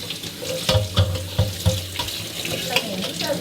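Tap water runs into a sink while dishes are washed, a steady splashing flow with a few clinks of utensils, close by and without speech.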